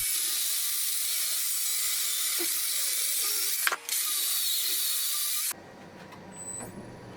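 Rustic locust bowl spinning on a wood lathe above 300 RPM, a steady broadband whir and hiss with a brief knock near the middle, then cutting off abruptly to a quiet low hum.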